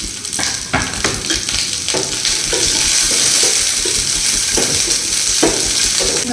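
Onions roasting in hot oil for vegetable lemon rice, giving a steady close sizzle broken by repeated scraping stirs and clinks of a spoon against the pan, with no voices.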